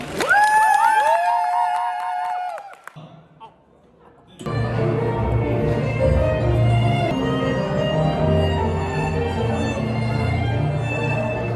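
Wedding guests cheer and applaud in a loud, sustained crowd roar with voices mixed in, after a brief sustained tone and a short quiet pause.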